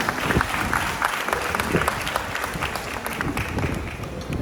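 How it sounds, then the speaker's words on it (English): An audience at a seal show at SEA LIFE Sunshine Coast Aquarium in Queensland applauds heartily, close, dense clapping with scattered sharper claps and low thumps sustained across the whole stretch. "give him a big round of applause"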